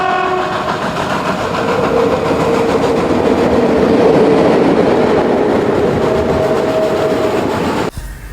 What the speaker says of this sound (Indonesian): Wah, ini kereta uap.